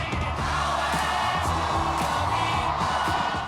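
A large crowd of about 6,000 at a Bernie Sanders rally in a packed Detroit convention hall roars and cheers continuously, loud and dense, with whoops rising above the din and voices mixed in.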